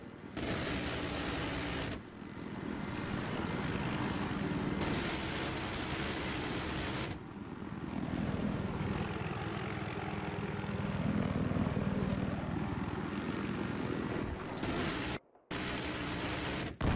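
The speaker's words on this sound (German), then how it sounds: "Und da ist doch wieder ein Helikopter." A helicopter in the video game Battlefield 3 makes a steady, dense rotor and engine roar that fills the whole stretch, with brief dips and a short cutout near the end, no talk.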